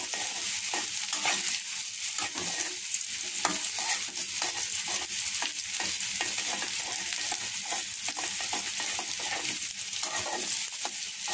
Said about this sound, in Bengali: মশলাটাকে বাদামি করে ভেজে নিচ্ছে